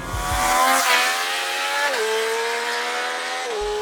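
A 2017 Triumph Street Triple S 765 with a loud Euro 4 exhaust passes close by, its engine note rising through upshifts as it accelerates, with a steady buzzing drone and no talk.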